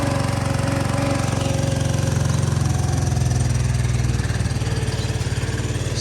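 A Honda Helix scooter engine runs at a steady idle after cleaning and maintenance, loud and close, with an even, continuous throb throughout.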